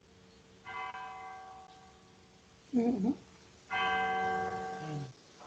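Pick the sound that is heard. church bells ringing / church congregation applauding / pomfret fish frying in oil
church bells ringing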